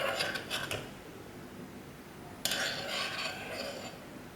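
A spoon stirs sugar and salt into a pot of sweet peanut soup, giving a steady scraping and clinking of metal on the pot with a sharper burst partway through, close and without talk.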